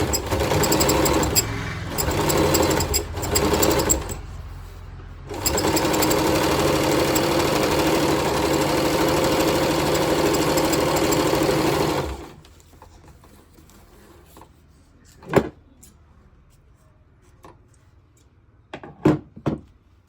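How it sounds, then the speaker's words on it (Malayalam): A sewing machine stitching the hem of a churidar pant runs loud and close in a steady whirring burst of about twelve seconds after some short starts and stops, then goes quiet apart from a few sharp clicks and thumps. "നമുക്കിതിലൊരു 3 സ്റ്റിച്ച് അടിച്ചിടാം."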